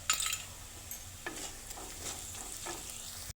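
Onions fry in oil with salt and turmeric for a village-style chicken sukka, stirred in the pan with a steady sizzle and a few soft scraping strokes, close and alone with no talking.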